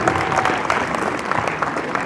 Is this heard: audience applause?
yes